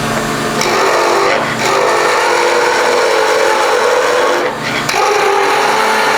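A skew chisel cuts into spinning wood on a lathe while turning a pen, giving a steady, loud, close scraping whir with a couple of brief dips as the tool shifts.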